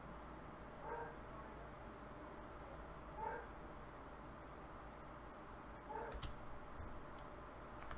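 A dog gives three brief, muffled yips spaced a few seconds apart, faint and somewhat distant over a steady background hum, with a few sharp clicks near the end.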